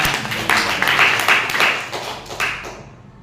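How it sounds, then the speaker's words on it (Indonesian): A small audience at a school branding presentation claps in a short round of applause, with uneven bursts that fade out after about three seconds. "Tepuk tangannya dulu."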